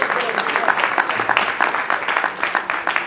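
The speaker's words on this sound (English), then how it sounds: "Give yourself a round of applause." Steady applause from a seminar audience, dense clapping at a constant level throughout, with a few brief voices mixed in.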